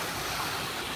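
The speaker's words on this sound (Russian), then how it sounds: "С горным ручьем." A mountain stream runs through fern-covered forest in the Pyrenees, giving a steady, loud rush of water that fills the whole moment with no voices.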